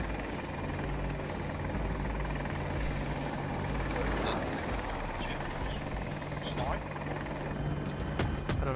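Attack helicopter in the video game Battlefield 2042, an Apache, with a steady droning rotor and engine hum running throughout at constant loudness, with faint game sounds over it.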